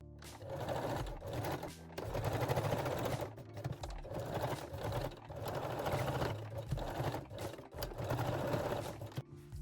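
A sewing machine runs a straight stitch along a seam allowance on a fold-over-elastic thong, its rapid mechanical whir coming in several close bursts separated by short pauses.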